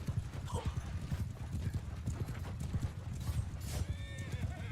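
In the Mount & Blade 2 Bannerlord video game, horses whinny and neigh over a steady clatter of hooves during a cavalry battle, with layered battle noise underneath throughout.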